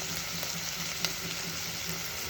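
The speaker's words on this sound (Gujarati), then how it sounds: "આપણે સુધારેલા ટામેટા પણ એડ કરી નાખીશું અને સારી રીતે મિક્સ કરી દઈશું." Chopped tomatoes and salt go into a hot pan for sooji upma and are stirred through, giving a dense, even frying hiss with a few faint spoon taps, steady and fairly close, with no speech.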